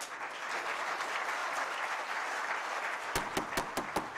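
An audience at a school board of education meeting applauds in a dense, sustained wash of clapping that continues throughout, with a few sharper, closer individual claps near the end.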